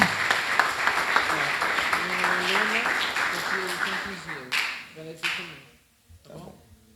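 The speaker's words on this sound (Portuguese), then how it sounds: "Quantos podem aplaudir Jesus?" Church congregation at a doctrine service clapping for Jesus, brisk overlapping applause mixed with a preacher's voice, then thinning into a few scattered claps and quiet.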